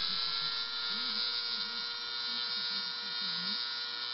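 A rotary tool bit carves and shapes bone, rounding and tapering an edge, giving a steady high-pitched whine close by with a faint lower wavering hum beneath it, and no talk.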